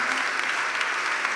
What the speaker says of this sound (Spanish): Un aplauso fuerte para nuestro Dios